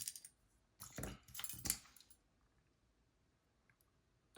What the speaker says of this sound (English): I like to take an X-Acto blade, just carefully pry up the barb retaining pin here,